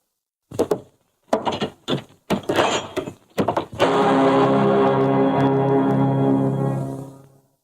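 A heavy wooden door in a 1940s Hindi film gives several sharp, hollow knocks and thumps. It then opens with a long, loud, drawn-out creak that holds steady for a few seconds before fading.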